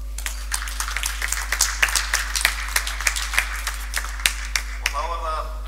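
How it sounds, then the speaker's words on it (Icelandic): Sparse applause at a judo tournament in a sports hall, a handful of people clapping in distinct, irregular claps over a steady low hum, with a voice speaking briefly at the end. "Gott klapp."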